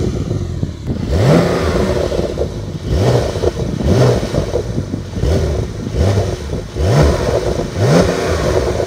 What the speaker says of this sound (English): 3, 2, 1, we'll be starting it up in Sport Plus.